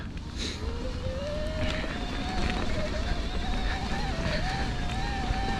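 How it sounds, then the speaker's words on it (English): Aventon Ramblas electric bike motor whining while riding, a thin rising and falling tone heard over heavy wind rush and tire noise, moderately quiet beneath the outdoor roar. "And the motor, I mean, you can hear it, but I've definitely heard louder motors out there."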